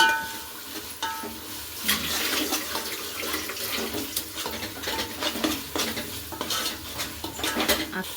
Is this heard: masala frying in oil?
yes